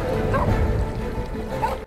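Barking and yipping from a dog in The Little Mermaid (2023) film, a steady run of close, loud barks mixed with the film's soundtrack, with faint talk underneath.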